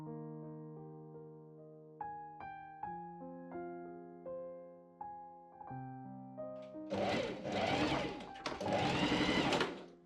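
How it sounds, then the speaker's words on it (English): Gentle melodic music plays alone at first, then a sewing machine stitches a quadrupled cotton collar for a Victorian tea gown in two loud, close bursts near the end. "I pin and machine sew the collar up."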